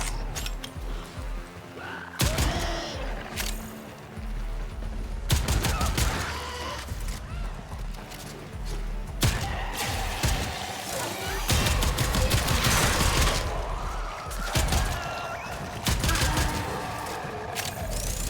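Boar shotgun firing automatically with the trigger held in the Warframe video game, heavy repeated blasts in dense bursts with brief gaps, loud and close over a busy mix of game effects.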